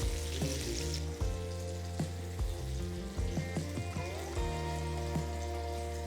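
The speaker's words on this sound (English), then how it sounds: "Gently place all the stuffed capsicums onto the pan and roast them on all sides." Stuffed capsicums roast in oil in a pan on a medium-low flame, giving a steady close sizzle and crackle with a few soft clinks and taps; no one talks.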